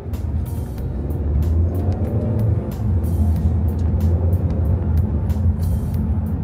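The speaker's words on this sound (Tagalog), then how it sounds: "pag nag-sport mode ka kasi, nararamdaman ko na yung engine, yung ingay." Engine of a 2024 Hyundai Custin seven-seat family car in sport mode hums and drones steadily from inside the cabin, a continuous low rumble with faint road noise and no talk.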